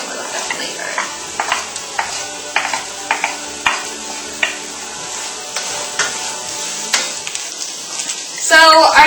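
Eggplant with added garlic sizzles steadily in a frying pan, with repeated stirring scrapes and utensil taps at an uneven rhythm, closing with a louder burst of sizzle.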